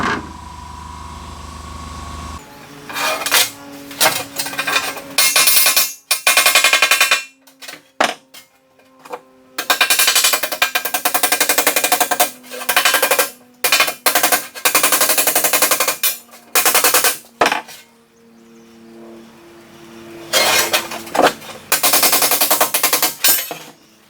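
Hammering shapes a freshly welded steel quarter panel on a 1964 Ford Galaxie. Rapid, loud bursts of metallic rattling hammer blows start and stop repeatedly, separated by short silent gaps.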